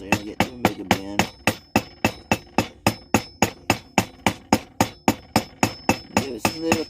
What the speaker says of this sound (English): Give it some little taps.